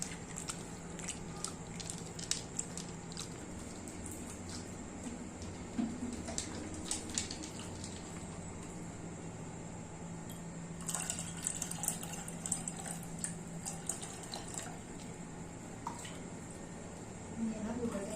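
Soaked ripe tamarind is squished and mashed by hand in water for phuchka, giving wet squelching and dripping sounds at a close, quiet level while people talk over it.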